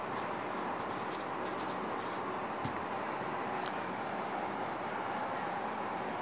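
A pen or marker writing by hand during a class six math lesson, faint scratchy strokes under a steady loud background hiss.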